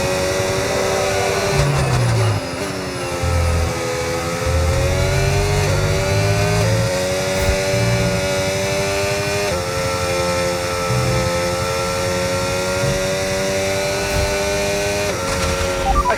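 A Formula 1 car in the F1 25 racing game, heard from the cockpit at Abu Dhabi as the race restarts: a loud, close, high-pitched engine scream climbing through the gears with brief shift dips, sustained throughout with no voices.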